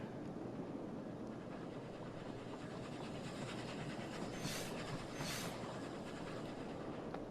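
A train runs along a rail line in the video game Oddsparks, giving a steady rolling rumble with a continuous rattle. Two short hissing bursts rise above it near the end, and no one speaks.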